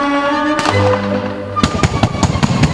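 Paint cannons firing outdoors, a loud booming blast followed by a rapid series of sharp pops and bangs, close and alone over a background hum.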